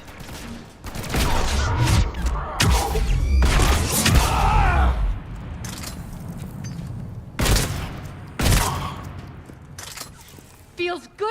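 Heavy gunfire erupts in a Mass Effect 3 firefight, with loud overlapping bursts, booming impacts and shattering crashes in rapid irregular volleys, close and intense, as voices shout between shots.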